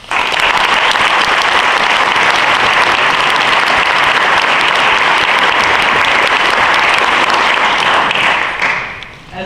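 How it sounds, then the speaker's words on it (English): Sustained applause from an audience at a high school National Honor Society induction ceremony, a dense, steady wash of many clapping hands lasting several seconds before tapering off at the end. "give yourselves a round of applause"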